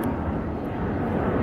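A plane on the Heathrow Airport flight path roars loudly and steadily overhead, its broad engine rumble filling the air above the Shark Cabins at Thorpe Park.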